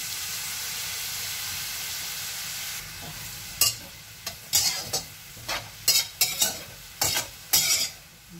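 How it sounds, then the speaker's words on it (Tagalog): Vegetables stir-fry in cooking oil in a pan. A steady sizzle comes first, then about eight sharp, rhythmic scraping and tossing strokes punctuate the quieter frying hiss. "lutuin natin konti yung ating gulay"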